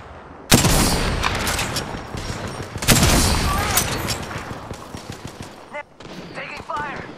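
Video game gunfire erupts in loud bursts of rapid automatic shots with heavy booms, two main volleys followed by scattered fainter shots, with a voice speaking briefly over the action.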